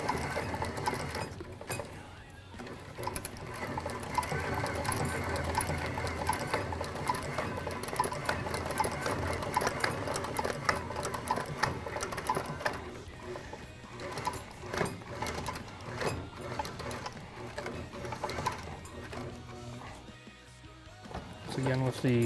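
A sewing machine runs continuously, adding reinforcement stitches to a repaired skate tendon guard, a fast, rattling mechanical chatter close by with brief slowdowns.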